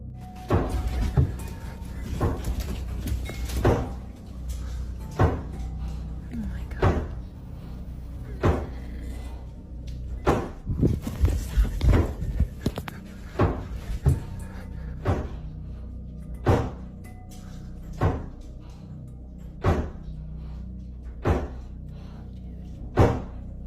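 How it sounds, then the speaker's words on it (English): Dull knocks and thuds come from inside the walls of a house, irregular and clustered at first, then settling into a slower, steady series of single knocks, fairly loud against a low background hum. "Harry records the weird and strange knocking sounds coming from inside of his"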